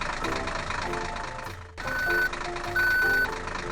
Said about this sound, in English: Tractor 1 with a seeder.